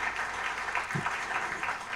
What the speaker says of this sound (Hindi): एक बार जोरदार तालियां for all the wonderful musicians who are going to accompany Radhika Chopra